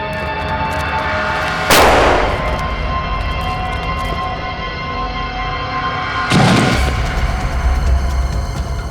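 Two loud explosive booms in a TV crime drama, as a target is blown up with a bomb, the first around two seconds in and the second near six and a half, each bursting broadly over a steady rumbling background.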